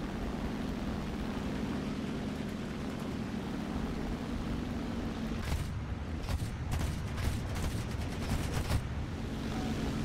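Machine guns on a La-7B-20 fighter plane in War Thunder fire in several short, sharp bursts over a constant droning engine hum, loud and close.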